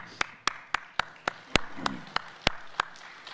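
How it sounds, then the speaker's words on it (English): Audience at a network operators' meeting gives a sparse round of applause, about a dozen distinct, evenly spaced claps ringing out in a large room, with no talk. "so I'd already like to give them a round of applause for the work they've done"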